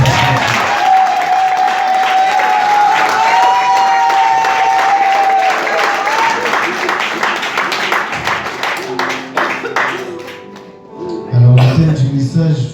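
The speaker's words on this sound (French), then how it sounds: "je veux que tu acclames pour le roi des rois" A church congregation applauds and cheers for the King of Kings, a dense, sustained wash of clapping and crowd noise with a tone held over it, thinning near the end before a brief louder swell.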